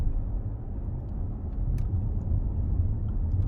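A car fitted with a Jaguar engine gives a steady, loud, low rumble that holds an even level throughout, with no clear rise or fall in pitch and no voices.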